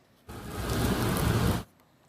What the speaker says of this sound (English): Record-breaking rain drenched parts of New York.